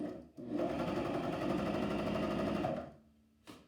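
A Janome 1000CPX coverstitch machine hems thick stretchy fleece in one steady, close whirring run of about two seconds, then stops, with a faint click after it.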